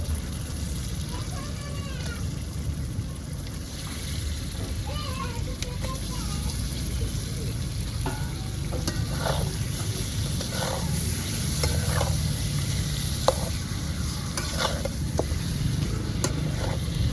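Fish fry steadily in a pan with a constant sizzle, punctuated by intermittent scraping stirs, while people and children talk in the background.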